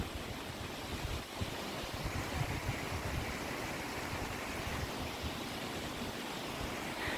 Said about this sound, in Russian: Вот он, водопад желаний. Сейчас мы над ним пройдем.